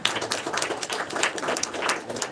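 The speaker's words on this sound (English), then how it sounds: "That is a huge applaud of our two-day national seminar." An audience at a two-day national seminar breaks into lively applause, dense overlapping hand claps rising and dipping in loudness, close and continuous for the whole stretch.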